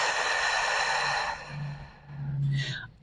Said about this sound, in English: and out through the mouth